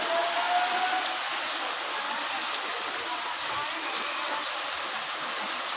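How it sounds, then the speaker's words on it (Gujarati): Heavy rain pours steadily over a village fair ground, a dense, continuous hiss of falling water with no letup, fairly close and even throughout, with faint background voices under it. "એના કેવો વરસાદ પડે જુઓ"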